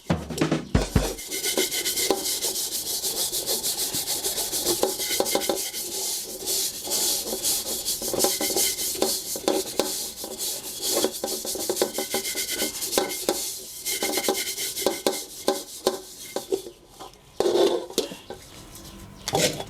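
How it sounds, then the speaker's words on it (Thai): Steady, rough scrubbing of a burnt, blackened pan bottom with soap and a scouring pad, continuous scratchy rubbing strokes close up for a long stretch. "ใช้สบู่และ ฝอยขัดหม้อของเราขัดข้างหน้าไปด้วยเลยนะครับ"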